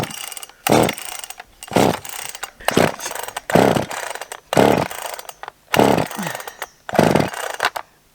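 A chainsaw is started again and again: about seven rasping pull-cord bursts come roughly a second apart, loud and close, and the engine never settles into a run.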